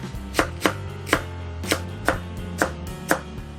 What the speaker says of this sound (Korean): 그러면 끓는 동안 옆에서 이제 야채 손질을 해볼게요.